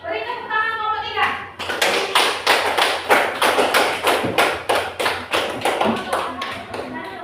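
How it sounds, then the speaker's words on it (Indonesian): Primary school pupils in an Indonesian classroom clapping in unison for a group, a loud, rhythmic run of sharp claps at an even beat lasting several seconds, after a brief moment of a voice. "Beri tepuk tangan kelompok 3."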